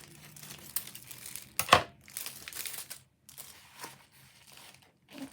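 Small plastic AliExpress pouches being handled and cut open with scissors, giving close crinkling and tearing rustles with a sharp snip burst in the middle, alone without talk.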